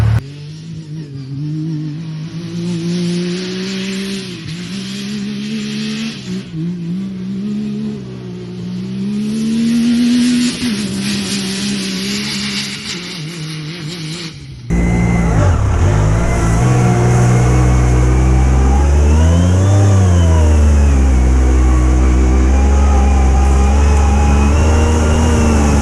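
Yamaha YXZ1000R and Talon side-by-sides driving back to back on a trail: a steady engine drone rising and falling with the throttle, then a louder, closer stretch of revving with pitch sweeping up and down.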